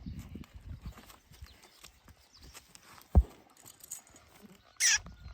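Draft horses shuffling and stepping in a stable area, with soft scattered hoof clops, one sharp knock and a brief high squeal near the end, fairly quiet overall.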